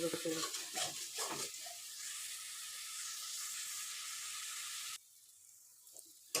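A spice paste with turmeric sautéed in a pan for a chital fish curry, with stirring scrapes and a steady sizzle that drops away sharply near the end.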